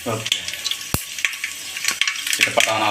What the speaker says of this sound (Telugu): కళాయిలో నాలుగు స్పూన్ ఆయిల్ పోసింది ఆయిల్ వేడెక్కింది ఇప్పుడు అందులో ఒక స్పూన్ తిరగమాత గింజలు ఎర్రగడ్డ పచ్చిమిర్చి చేసుకుందాం